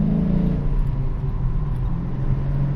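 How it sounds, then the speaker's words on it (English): A car engine rumbles steadily and low, a continuous close hum with slight fluctuations in tone. "I'm pretty sure you're able to hear my car"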